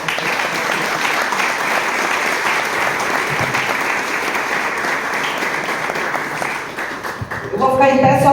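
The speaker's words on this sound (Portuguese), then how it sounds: "Salva de palmas aí pro Miguel." A seated group at a support-group anniversary meeting gives a round of applause for Miguel, continuous clapping for about eight seconds, fairly loud and full, with voices mixed in underneath.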